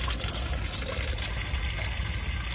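Water leaks out of a plastic hose under an RV with a steady, loud rushing gush that runs without a break and has no talk over it.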